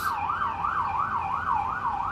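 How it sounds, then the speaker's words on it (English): A police siren wails in the city, its pitch rising and falling in a regular rapid cycle, moderately distant and steady for a couple of seconds, with no talking. "now there's police sirens."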